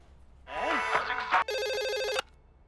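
A phone rings with a short electronic warble and then a steady buzzing tone as a call connects, heard once, close and clear in a quiet room.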